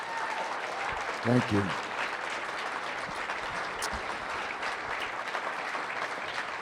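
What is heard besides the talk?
audience applause for Dave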